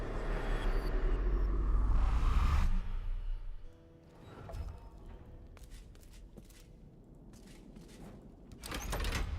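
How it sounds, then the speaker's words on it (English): Door opening in the video game Divinity Original Sin 2: a loud rumbling grind that stops abruptly, followed by quieter scattered knocks and shuffles, then a renewed rumble at the end. "hear a door opening"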